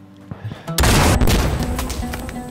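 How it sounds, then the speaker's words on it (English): A loud, sudden blast in the shooter game Insurgency Sandstorm, bursting in with a heavy low rumble and crackling gunfire-like debris after a few faint thuds, then rolling on noisily to the end. "Because it blocked that sick explosion right there."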